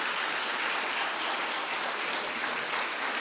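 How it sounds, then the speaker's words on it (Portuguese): Congregation applauding loudly during a family worship service in church, a dense, constant roar of many hands clapping at an even level throughout. "Vamos aplaudir o nosso Deus bem forte."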